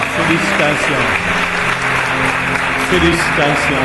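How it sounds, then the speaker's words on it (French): A church congregation claps together in sustained, dense applause at a Sunday service, with a voice speaking over the clapping. "On les applaudit ensemble."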